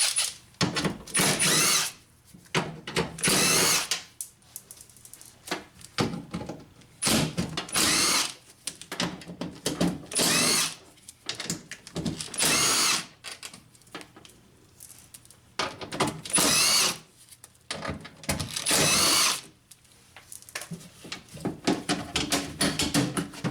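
A power tool loosens bolts on a Honda window regulator stuck inside a car door, running in repeated loud whirring bursts of a second or two, separated by quiet pauses with faint handling clatter.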